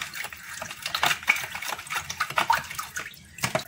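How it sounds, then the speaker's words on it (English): Water is stirred by hand into sugar and lime juice for homemade lime juice, a steady sloshing, splashing swirl with brief spoon clinks, close and continuous with no talking. "give it a really good mix, like so, till the water integrates with the sugar and the lime juice."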